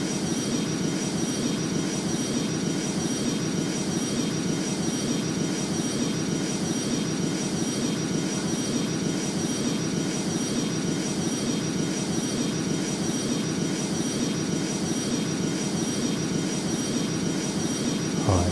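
Steady, continuous airplane engine drone from the Rortos Extreme Landings flight simulator game, a constant loud hum with a sustained high whine, running alone without talk.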